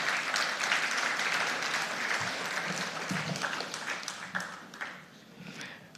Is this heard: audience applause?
yes